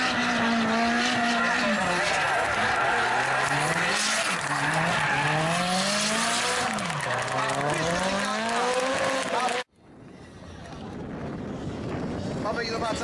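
A drift car slides sideways through the drifting zone at a race in Patra, its engine revving loudly and tires squealing for several seconds before cutting out abruptly, followed by quieter crowd and track noise.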